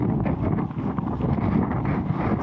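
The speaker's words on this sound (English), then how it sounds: "Very windy." Strong wind buffets the microphone in a constant low roar, gusting unevenly with no other sounds coming through.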